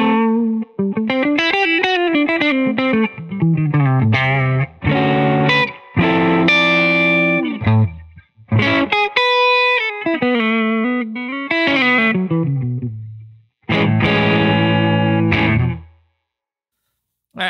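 An electric guitar, a Telecaster Deluxe through a Triungulo Lab Malombra Chorus pedal into a Benson Monarch reverb amp, plays melodic phrases and chords with a shimmering, warbling chorus effect, with brief pauses between bursts of notes.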